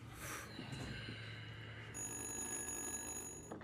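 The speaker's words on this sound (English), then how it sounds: "it's a phone" An old-style telephone bell ringing faintly and steadily, a sustained metallic ring holding across the whole few seconds with no talk over it.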